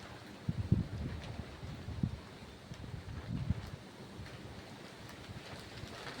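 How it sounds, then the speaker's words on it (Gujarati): Gusty wind buffets the microphone in low, rumbling bursts, with a steady rushing roar underneath and no voices. "પવન બહુ અતિશય તો હજી પણ છે"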